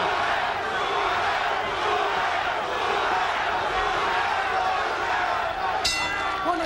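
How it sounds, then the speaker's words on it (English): A large arena crowd at a 1983 boxing match between Marvin Hagler and Roberto Duran roars and chants in a dense, continuous wall of noise, with a commentator talking over it. "Crowd comes alive once more with a chant, Duran, Duran"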